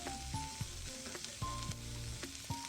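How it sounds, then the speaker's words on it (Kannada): Capsicum frying in a pan: a steady close sizzle broken by repeated scraping and tapping strokes from stirring, with no voices. "ಸ್ವಲ್ಪ ಫ್ರೈ ಆಗಿದ ತಕ್ಷಣವೇ ನಾನು ಅದಕ್ಕೆ ಕ್ಯಾಪ್ಸಿಕಮ್ನ ಹಾಕ್ಕೊತಾ ಇದ್ದೀನಿ."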